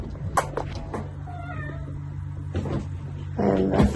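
A pet cat meows several times in a home, a few short meows spread across a few seconds, near and fairly clear, with some light background noise and no speech.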